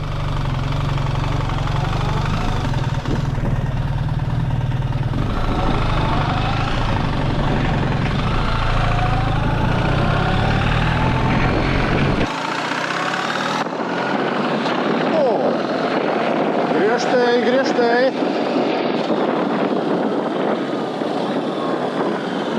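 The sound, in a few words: BMW R1300GS Adventure motorcycle engine riding off in first gear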